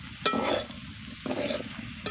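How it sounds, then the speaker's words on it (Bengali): Vegetables for Bengali shukto being sautéed and stirred in a pan, a soft low sizzle broken by a few scraping strokes of the spatula and a couple of sharp clinks against the pot. "এবার 2 মিনিট মতন সময় ধরে সব কিছুকে কষিয়ে নেব।"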